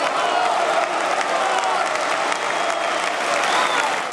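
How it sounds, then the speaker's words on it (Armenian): Long, dense applause fills the hall at Erdoğan's presidential inauguration ceremony in Ankara, a continuous roar of many hands with faint crowd murmur, steady for over four seconds before tapering. "Երկարատև ծափողջույններից հետո դահլիճում հնչեց երկրի օրհներգը։"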